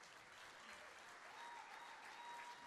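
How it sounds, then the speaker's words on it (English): Steady applause from an awards-night audience at a lawn bowls hall of fame induction, a continuous dense clatter of clapping hands filling the room, moderately loud and unbroken throughout. "That is worth a round of applause, everyone."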